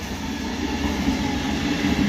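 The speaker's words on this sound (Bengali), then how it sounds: "ওই যে ট্রেন বেরোচ্ছে, ওই যে" A train passes by on a fog-covered morning with a continuous rolling rumble of wheels on track, moderately loud and steady for about two seconds, with no voices.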